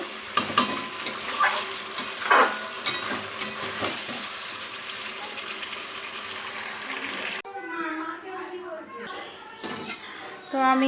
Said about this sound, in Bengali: এখানে জলটা দিয়ে দিলাম এবার আমি এটাকে ঢাকনা চাপা দিয়ে আস্তে আস্তে হতে দেব